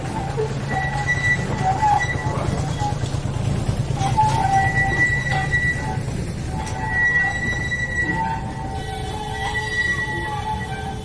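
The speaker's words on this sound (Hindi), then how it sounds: "अभी आप देखोगे छोटी पटरी की जो ट्रेन होती है छोटी वाली, वो आ रही है मेरे पीछे से" A small narrow-gauge museum train in Nagpur rumbles steadily past nearby, its wheels squealing in thin, sustained tones over the low rolling clatter throughout.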